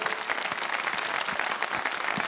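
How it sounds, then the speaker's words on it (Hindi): A studio audience on a Ramadan TV show's kids segment claps for a child, a dense, continuous wash of applause that stays even throughout the short burst. "अरहम के लिए बहुत सारी तालियां बजा दें"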